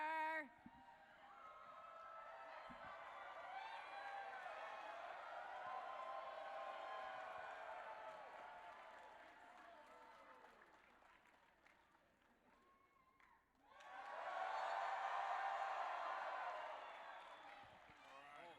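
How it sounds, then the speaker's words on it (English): A comic convention audience at Planet Comicon Kansas City 2016 cheers and applauds in a broad, sustained roar that fades, then swells again in a second burst of clapping. "You guys need to stand up and cheer"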